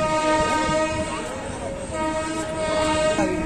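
Gaya–Chennai Egmore Express passenger train pulling into Balaghat Junction on its first arrival there, with a steady loud rumble of carriages and a sustained horn tone running throughout, no voices.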